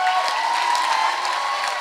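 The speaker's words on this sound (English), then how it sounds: "Let's give another round of applause to Teacher's Pet." Steady, dense applause from a graduation ceremony audience, with crowd noise and faint shouts mixed in, continuing evenly throughout.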